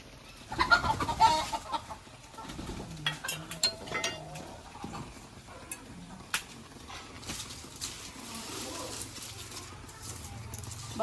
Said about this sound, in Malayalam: എന്താ വരി വരിയായി പോണ കോഴിക്കള്?